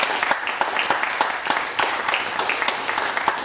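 An audience at an alumni get-together gives a round of applause, steady dense clapping from many hands filling the room throughout.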